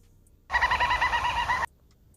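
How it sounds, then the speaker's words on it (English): Little wattlebird calling in a single loud burst of about a second, a harsh, rapidly repeating run of raspy notes heard close and alone. "Little wattle bird."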